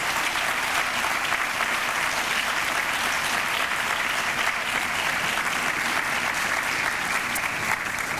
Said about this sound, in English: why don't we give some applause for our whole round of distinguished teachers